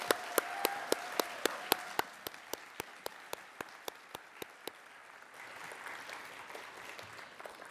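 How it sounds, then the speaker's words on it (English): Applause at a science awards ceremony: a few sharp, evenly spaced claps ring out close by at first, then a softer, scattered crowd clapping lingers in the background. "Can we please give them another round of applause?"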